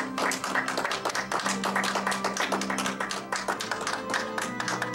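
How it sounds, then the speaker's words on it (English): Wedding guests clap steadily for the newlyweds, Mr. and Mrs. Christopher Winans, as they are introduced at the wedding. The rapid, fairly close clapping continues throughout over a low tonal background. "Give me a nice round of applause"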